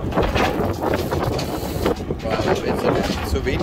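Gusty wind buffets a catamaran at sea near Phuket as weather moves in, a loud, broad rushing roar battering the microphone with a voice talking through it.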